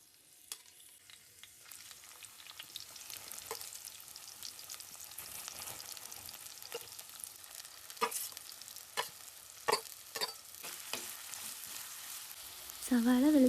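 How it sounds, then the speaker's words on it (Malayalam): Onion, garlic and ginger sautéed in a pan for crab roast: a soft, quiet sizzle with intermittent stirring clicks and scrapes that grow busier, and a short voice near the end. "സവാള, വെളുത്തുള്ളി, ഇഞ്ചി നന്നായിട്ടൊന്ന് വഴറ്റിയെടുത്തതിന് ശേഷം"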